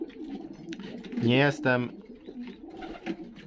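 Homing pigeons coo in a loft, a soft rolling coo rising mid-clip against a murmur of background sound, while someone speaks briefly nearby.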